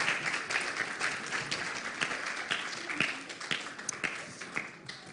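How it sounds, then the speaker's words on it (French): A church congregation applauds a family at a morning celebration service, steady clapping from a roomful of people with scattered sharper claps, moderately loud and continuous throughout. "On peut applaudir la famille."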